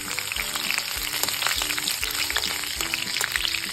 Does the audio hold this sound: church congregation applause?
no